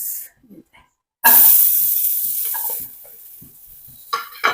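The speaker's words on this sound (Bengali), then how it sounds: "এই যে এখন ভাজবো পেঁয়াজ" Onions drop into hot oil and burst into a loud, close hiss of frying that slowly fades to a gentler sizzle, with a few scraping stirs before and after.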